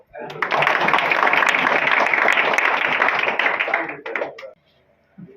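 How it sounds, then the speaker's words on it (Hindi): An audience at a motivational talk by a railway assistant bursts into dense clapping that holds for about four seconds, then thins out and stops, with a voice briefly heard near the end. "ताली मार दो।"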